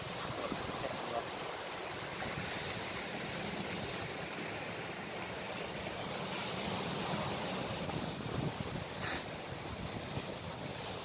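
Sea waves wash against a sea wall in a continuous, broad rushing roar mixed with gusty wind noise on the microphone, steady and fairly distant throughout.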